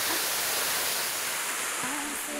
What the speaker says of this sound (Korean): 청량하고 시원한 물소리.